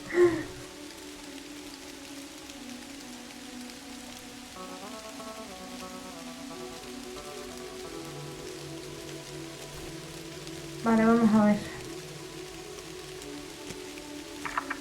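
Steady rain patters softly over quiet background music in the video game Kathy Rain, with a short louder burst near the end; a voice speaks briefly at the start.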